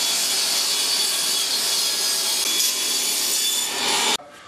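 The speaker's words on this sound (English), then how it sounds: "we have to make a quick rip cut on the table saw" A table saw rips a board of wood lengthwise, a loud, steady, high-pitched whine and rasp of the blade through the cut that holds evenly for about four seconds, then drops off abruptly as the cut ends.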